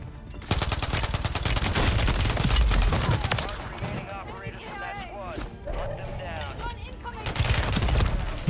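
Sustained automatic fire from a JAK Annihilator machine gun in the video game Warzone, dense rapid bursts rattling on loud and close for most of the stretch, with other game sounds and talk mixed in.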